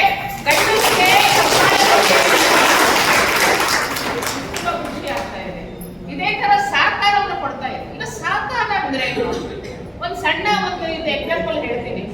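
Applause from a crowd at a cooperative-societies day event honouring women and youth, dense and loud for about five seconds, then thinning out as speech resumes over scattered claps.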